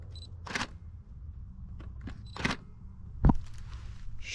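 A Nikon D3000 DSLR fires its shutter in three or so separate, crisp mechanical clicks spaced a second or two apart, close to the mic against a quiet room.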